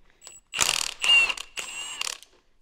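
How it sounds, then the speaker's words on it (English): A ratchet working a nut on an Acura RSX Type-S power steering rack gives several loud, close bursts of rapid metallic clicking separated by brief pauses. "I'm gonna undo this nut while we have something to take to torque"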